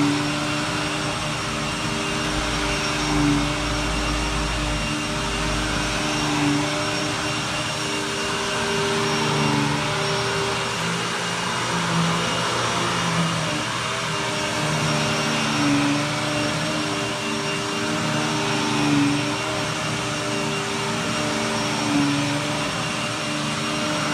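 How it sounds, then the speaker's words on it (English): A rug duster machine running beneath a thick shag area rug to beat dry soil out, a loud continuous motorized whine and drone with steady tonal hum and faint periodic swells, alone without voices. "I'm going to begin the rug duster and put it on the rack to go ahead and get ready for it"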